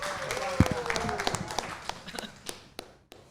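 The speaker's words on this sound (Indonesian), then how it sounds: "Boleh tepuk tangan buat Dava Barka." A small studio audience on an Indonesian football talk show gives scattered applause, individual claps and taps thinning out over three seconds, with voices talking over them.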